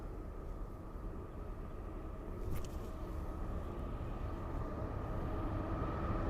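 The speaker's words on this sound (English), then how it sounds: "Oh boy, here comes the train." A low, steady rumble of a train going by at a distance from a golf course, with a brief higher squeal partway through and no talking.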